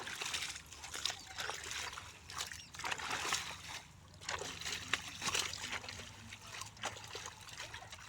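Water pumped by a motor trickles and splashes steadily into a farm field for irrigation, faint and continuous with uneven sloshing surges, a low hum beneath.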